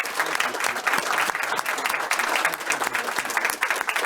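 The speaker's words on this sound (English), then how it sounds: "One big round of applause for them." A crowd at a Murray City council meeting gives a big round of applause, a thick, continuous clatter of many hands sustained for several seconds without talk over it.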